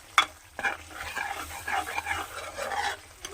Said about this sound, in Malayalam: വെള്ളം ഒഴിച്ച് അരപ്പ് നല്ലോണം ഒന്ന് ചൂടാക്കി എടുക്കുന്നുണ്ട്